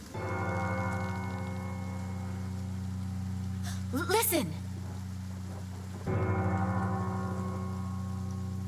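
A church bell tolls in the fantasy video game Pillars of Eternity, with two deep, ringing strikes several seconds apart. Each long, humming decay continues under a brief spoken word and game ambience.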